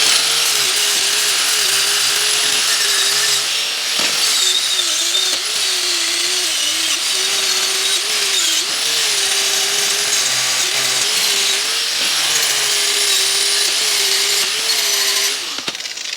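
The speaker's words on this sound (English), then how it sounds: "we're going to take our wire wheel on the grinder" A bench grinder fitted with a wire wheel whines loudly and continuously, its pitch dipping and recovering repeatedly as a workpiece is pressed against the spinning brush.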